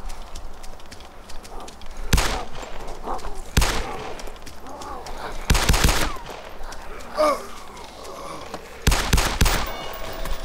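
Several loud, booming blasts from a double barrel shotgun in the DayZ mod game, spaced a few seconds apart over a rumbling in-game background with scattered lighter noises.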